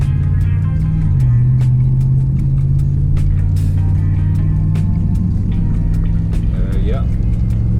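A Dodge Ram pickup with a Magnaflow 16869 cat-back dual exhaust cruises on the road, a steady low engine drone and mild exhaust growl heard from inside the cab, loud and continuous with faint background noises.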